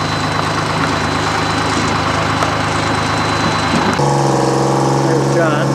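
A log skidder engine idles and pushes steam locomotive number 9 of the St. Thomas Central Railway at Shedden, Ontario, toward a shed doorway, a steady low engine rumble that shifts to a deeper note near the end.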